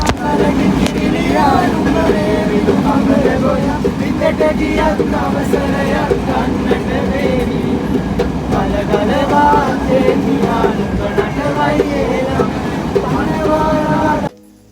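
A train runs steadily into Matara station in Sri Lanka, a loud continuous rumble with rattling carriages and clacking wheels heard from inside, with voices mixed under it until it cuts off near the end.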